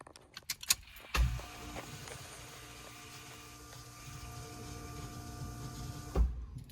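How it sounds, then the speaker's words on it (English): Car fuel pump priming as the ignition key is cycled: a key click, then a faint steady electric whine and hum lasting several seconds, ending with another click. The sound is quiet and nearby. "Cycle the key a couple of times just to get the fuel pump pumping."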